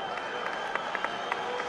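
A football stadium crowd applauds Rivaldo as he is substituted off in a match, a brief burst of clapping and crowd noise at a moderate distance.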